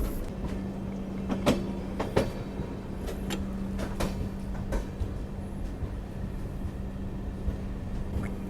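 The 16381 Pune-Kanniyakumari Jayanti Janata Express pulls into a station, with a steady low rumble, a sustained tonal hum and irregular clicks and clanks from the wheels and couplings.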